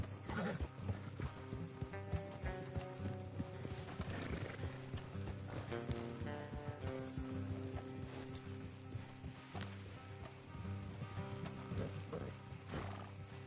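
Horses in a PS4 video game clip-clop steadily with an occasional whinny, set against a continuous musical backdrop.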